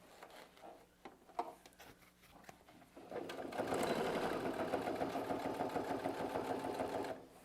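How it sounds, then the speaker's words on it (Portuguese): A sewing machine runs a steady, continuous stitch along a fabric bag seam, starting after a few seconds of quiet handling and holding a fairly loud, even whir to the end. "vai para a máquina costurando do centro até um lado, depois do centro até o outro"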